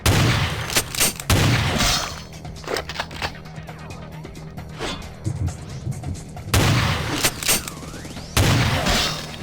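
Gunfire in Vampire: The Masquerade – Bloodlines with the Final Nights mod: a few loud, sharp bursts of shots near the start and again near the end, separated by quieter game ambience.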